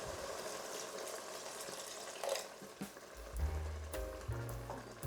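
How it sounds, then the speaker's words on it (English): Water is poured from a glass into a pan of seafood sauce for lasagna, a soft, close splash and trickle over quiet kitchen sounds, followed by a low gurgling hum. "And also I will be adding a glass of water."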